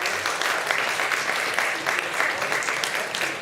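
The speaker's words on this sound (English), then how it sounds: "That actually deserves a round of applause." A room full of people applauds at a live auction, with continuous dense clapping that stays loud and even throughout.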